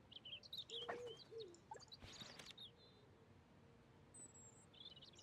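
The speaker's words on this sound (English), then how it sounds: "I can hear a bird." Bird chirps in the video game Heartopia: a few short, thin calls, faint and scattered against a quiet ambient background, with occasional soft game sounds between them.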